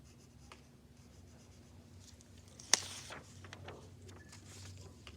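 Pencil strokes scratching and rubbing on paper while drawing with red and black pencils, soft and close, with one sharp tap partway through and quiet continuous scribbling.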